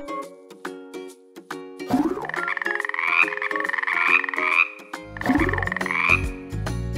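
A frog croaks in loud, warbling bursts, two long trilling calls rising over a backdrop of plinking tones.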